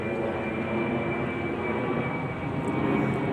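Airplane climbing out after takeoff near Taoyuan airport in Taiwan, a loud, steady jet roar filling the whole moment, close and continuous with no voices.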